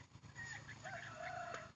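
Faint chicken calls rise and fall in a short series of tonal clucks against quiet farmyard background noise in a home garden.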